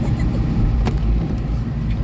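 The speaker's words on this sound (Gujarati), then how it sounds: "ગાડી પાણીમાં ઓલમોસ્ટ ડૂબી જાય એટલું ટ્રાફિક એટલું પાણી છે" A car pushes through a flooded road in Rajkot during heavy rain with a loud, continuous low rumble of engine and water, plus a brief splash-like burst midway.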